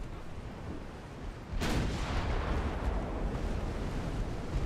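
Naval gunfire strikes a torpedo in the warship game Ultimate Admiral Dreadnoughts: after a quiet low rumble, a sudden heavy blast erupts and rolls on as a loud, sustained explosive roar.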